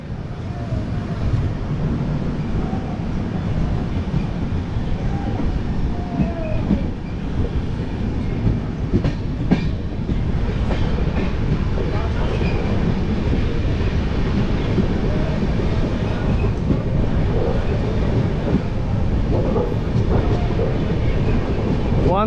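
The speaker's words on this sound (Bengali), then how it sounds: "হরিশ্চন্দ্রপুর থেকে ছেড়ে দিল আমাদের ট্রেন" Howrah–Katihar express train running steadily after pulling out of a station, a continuous loud rumble of wheels and carriages with faint clicks and occasional squeals, no talk.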